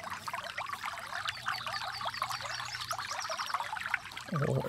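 Water pouring into a tank in the Farming Simulator 22 video game, a continuous gurgling, trickling rush with bubbling detail, ending in a louder splash near the close.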